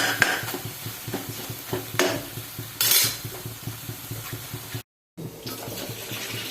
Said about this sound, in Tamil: இந்த தக்காளி வெங்காயம் எல்லாம் நல்லா வதங்கிட்டு